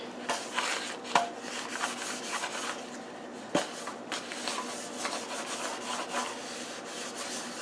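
Steady close rubbing and scraping as two muffin pans are lightly coated with oil before corn muffin batter goes in, with a few sharp metallic knocks of the pans.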